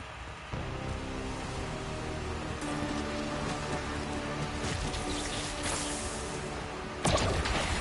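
Rain patters steadily in the Rex Infernus video game, a soft, even hiss of drops with a few brighter splashes and a sharper crash near the end, heard alone at moderate level.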